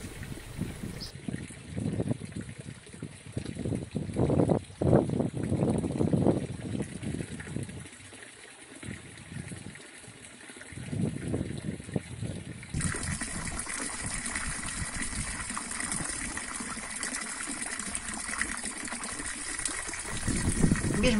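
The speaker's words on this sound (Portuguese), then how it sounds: "a bomba eleva uma quantidade apreciável de água" Water lifted by a homemade wind-driven rope pump in light wind of 5 to 10 km/h, gushing and splashing steadily throughout, with a shift to a broader rushing flow partway through.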